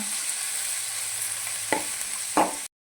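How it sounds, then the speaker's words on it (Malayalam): Curry leaves sautéing in a pan, a faint steady sizzle with a couple of brief scraping stirs near the end, no voices present. "കറിവേപ്പില ഇങ്ങനെ തന്നെ ആയിട്ട് ഇത് നമുക്കിത് വഴറ്റിയെടുക്കാമേ."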